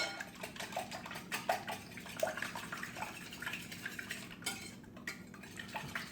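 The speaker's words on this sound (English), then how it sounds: "a whisk really makes quick work of it" Eggs whisked in a bowl for a breakfast casserole, a quiet, fairly steady run of soft metallic clicks and tapping from the whisk, close by and without any talk.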